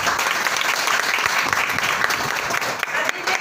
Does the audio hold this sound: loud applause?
yes